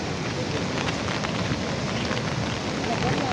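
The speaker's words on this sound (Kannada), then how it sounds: "ಜೋರು ಮಳೆ ಬಂತು ಅದಕ್ಕೆ ಕೊಡಿ ಹಿಡ್ಕೊ ಬಂದೆ" Dense, steady roar of heavy monsoon rain pouring down by the sea, constant and loud with no breaks or voices.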